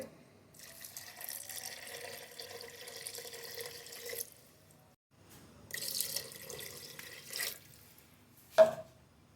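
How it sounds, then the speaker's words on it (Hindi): Water runs steadily into a cooking pot of stuffed bitter gourd for a few seconds, stops, then pours again more briefly, ending with a small clink. "अब इसमें हम 2 गिलास पानी ऐड कर देंगे।"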